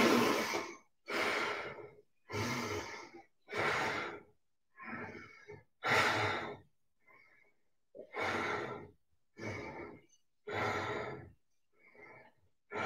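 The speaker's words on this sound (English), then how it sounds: "Let's put some breathing in. Breathing in and out." Slow, deep breathing in and out during a gentle yoga session, close and clear, with about nine long breaths in a steady rhythm and short quiet gaps between them.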